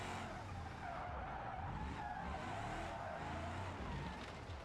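A car drifting in the BeamNG.Drive driving game, with continuous loud tire skidding and squeal layered over steady engine drone for the whole stretch, no voices.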